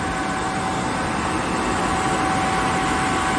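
A Kaeser screw air compressor with inverter drive hums steadily nearby beside a 750-liter air receiver, a constant dense whir with a faint high whine and no change in level.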